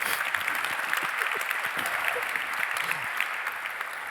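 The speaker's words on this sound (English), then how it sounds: "I think that deserves a round of applause." Steady audience applause at an interview event about natural diamonds, dense clapping that holds throughout at an even level.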